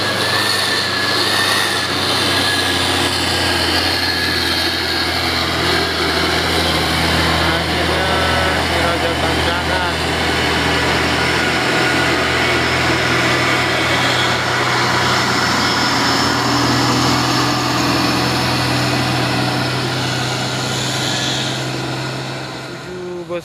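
A Hino tanker truck's diesel engine accelerates on a hillside road, a loud, steady, close drone that holds throughout the clip.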